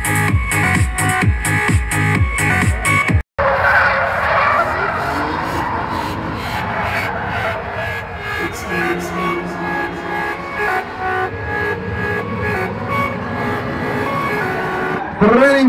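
Nissan 350 and BMW M3 E46 drifting in practice at a 2009 Slovak drift event: loud, continuous engine roar and tyre noise over tonal background sound, with a brief dropout near the start.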